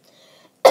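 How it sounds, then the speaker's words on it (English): A single sharp cough bursts out at the end from someone who is a little sick, loud and close, after a near-silent stretch with faint background noise. "I'm a little sick with a cough"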